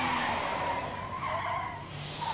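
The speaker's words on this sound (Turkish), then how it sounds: "Arabayı sağa sola savurarak ne yapıyorsun?" A cartoon car skids while swerving side to side, giving a loud sustained tire squeal with shifting pitch and engine noise across the whole stretch, with no talk.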